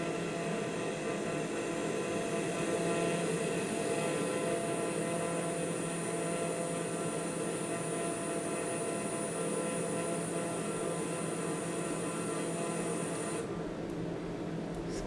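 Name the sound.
single-engine plane engine in Microsoft Flight Simulator video game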